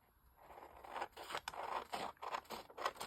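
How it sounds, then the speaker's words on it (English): Scissors cutting down the side of a file folder, a close run of rhythmic crisp scraping snips, quiet and alone. "I will just cut down this side though."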